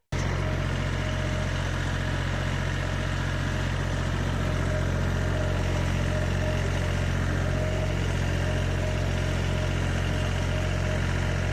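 An MTZ tractor pulling a two-row potato digger runs continuously at a steady low rumble, a loud constant engine drone with no pauses and no voices.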